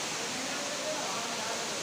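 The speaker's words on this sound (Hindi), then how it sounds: "वाटरफॉल का जो साउंड है, पानी की जो कलकल आवाज़ है, वो तेज़ होते जा रही है।" A waterfall at a camping spot sends a steady, dense wash of rushing water that fills the whole clip evenly and closely, with no breaks.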